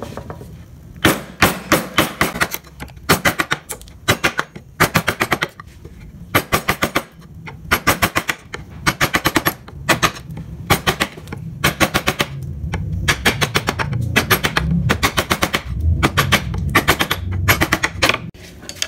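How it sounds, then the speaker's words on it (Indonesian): A curved carving chisel (pahat penguku) is tapped with a mallet into a wooden Pajajaran-style ornament, giving rapid bursts of sharp, close knocks in steady rhythmic runs separated by short pauses, with no talking. "kalian gunakan pahat penguku"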